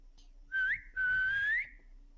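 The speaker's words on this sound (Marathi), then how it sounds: "एक शिट्टी मारतो" A man gives a loud whistle, a short rising note followed by a longer sustained one that climbs at the end, close and clear over faint background noise.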